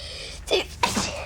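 A single sneeze bursts out at close range during a British family sitcom scene, a sharp intake followed by a loud explosive release, with faint room noise behind it.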